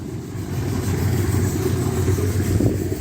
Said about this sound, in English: Looks like a single cylinder engine.